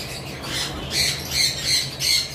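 A cockatiel in a cage at a bird farm squawks in a series of about five loud, harsh calls spaced roughly half a second apart, close by, with no talking.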